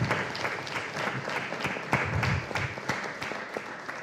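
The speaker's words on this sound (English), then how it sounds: "everybody give them a round of applause" An audience at a Tucker District 2 candidate forum claps loudly and continuously, a dense burst of applause with a few sharper individual claps standing out, fading slightly toward the end.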